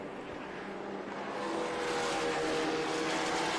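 Vintage race cars of SVRA Group 5, including an Elva MK7S and a BMW M3 lightweight, race at Watkins Glen, their engines a steady, loud roar that swells as the cars draw nearer.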